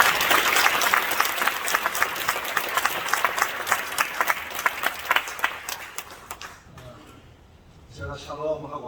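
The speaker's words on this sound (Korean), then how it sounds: "한번 박수 좀 많이 주실래요?" A church congregation applauds at a worship service, a dense burst of many hands clapping loudly and steadily for several seconds before fading out, followed by a voice speaking.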